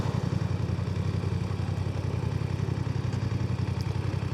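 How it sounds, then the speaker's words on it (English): A motorbike engine idles steadily in a car park with a low, throbbing rumble that holds constant throughout, with no talking. "I can hear a motorbike"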